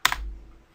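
A single press of the enter key on a computer keyboard gives one close, crisp double click that fades quickly into silence.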